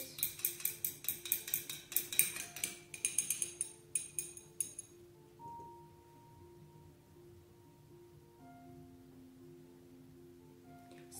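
Glass clinking and stirring in a container of homemade perfume, a burst of sharp bright chinks and clatters over the first few seconds, then fading to a quiet, steady background hum.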